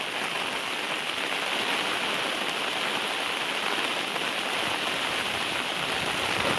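Heavy monsoon rain falls in the Konkan, a dense, steady hiss of downpour on surfaces that stays loud and unbroken throughout.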